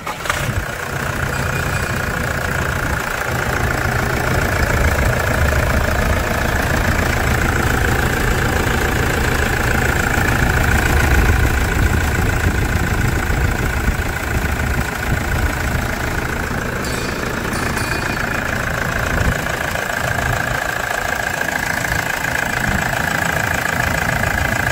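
A Toyota SW4 3.0 diesel engine idling close by, a steady loud mechanical rumble with a slight knocking texture that continues evenly throughout with no one speaking.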